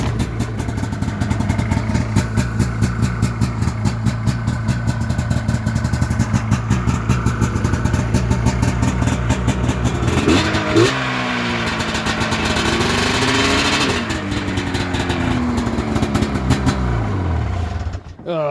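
An Arctic Cat Firecat F7 snowmobile engine with low windshield and about 3,500 miles runs loud and close in a steady rapid two-stroke putter, its pitch rising and falling in a rev midway before settling back and cutting off near the end.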